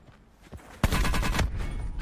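Call of Duty: Black Ops 4 gunfire rings out in a sudden loud burst of rapid shots that runs on after a quiet start, with nobody talking.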